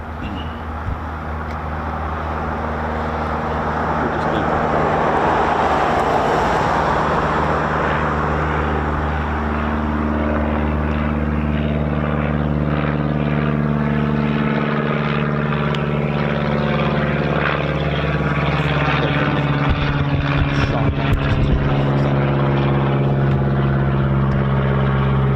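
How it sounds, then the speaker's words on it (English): BBMF Chipmunk propeller training aircraft flying near an RAF airfield, a loud steady droning engine and airscrew hum that swells and holds throughout, close by, with no speech. "the BBMF already up right now with their training aircraft, the Chipmunk"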